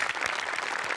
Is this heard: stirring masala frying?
no